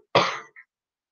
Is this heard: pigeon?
no